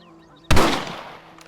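A single rifle shot from the video game Red Dead Redemption cracks sharply and close, then trails off in a long echoing decay.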